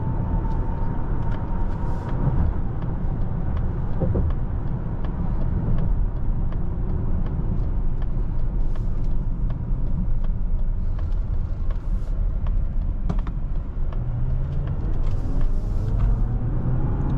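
A 2025 Mazda CX-70 PHEV Premium Plus pulling away from a stop, a steady, loud low road and engine rumble filling the cabin throughout with no talk over it.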